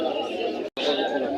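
Pigeons at the Jinjira pigeon market in Bangladesh coo steadily beneath dense crowd chatter and nearby talking, with a brief gap partway through.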